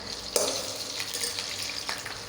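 Curry leaves dropped into hot groundnut oil with fennel seeds and dried red chillies in a kadai, giving a sudden loud crackling burst that settles into a steady sizzle, with no voices.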